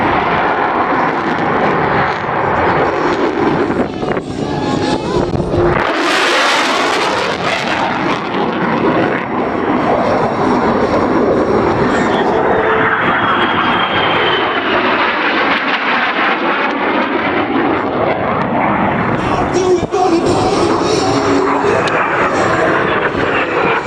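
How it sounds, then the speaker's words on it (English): An F-35 fighter jet roars past at an international airshow, a loud, continuous engine rumble that swells sharply around the sixth second and then stays heavy and sustained for the rest of the pass. "This F-35 showing off at the Westfield International Airshow."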